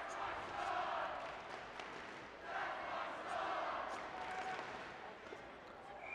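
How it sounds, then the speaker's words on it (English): The Grand Forks Central student section cheers at a high school hockey game against Fargo Davies, rising and falling chants and yells from the stands, moderately distant under the arena ambience. "Grand Forks Central student section cheering"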